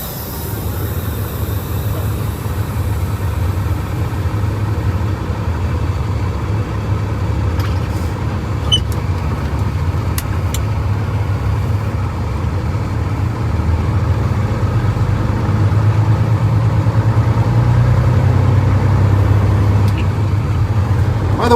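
Low, steady rumble of a truck engine idling continuously, with faint rattles and clicks over the drone.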